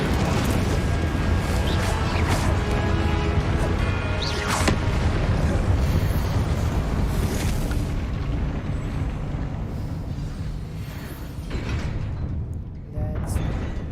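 The Incendio fire spell is cast in Hogwarts Legacy, a loud, sustained whoosh of flame with booming bursts and crackling that tapers off toward the end.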